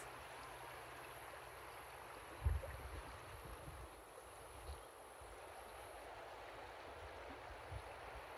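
A river flowing in a natural outdoor setting: a soft, continuous rushing wash, fairly faint and distant, with a few low thumps and bumps scattered through it and no talking.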